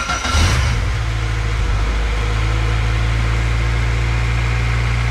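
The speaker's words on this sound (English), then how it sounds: "It's probably gonna idle a little different because of the bigger throttle body." A car engine fitted with a bigger throttle body gives a quick rev before dropping back to a steady, droning idle, heard loud and close throughout with no talking.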